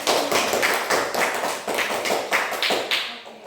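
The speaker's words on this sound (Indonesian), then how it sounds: "Tepuk tangan dulu." A classroom of students claps along together at a teacher's request, a dense, fairly close patter of many hands with a few regular swells in loudness, and no voices over it.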